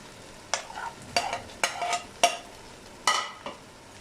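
Potatoes tossed into a pot of spiced masala and stirred, with several separate scraping strokes of a spoon over a soft, low sizzle, close by.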